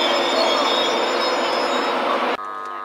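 A pair of Class 66 diesel freight locomotives thunders through a station in a loud, continuous roar and rail rumble that cuts off abruptly, leaving a quieter hum.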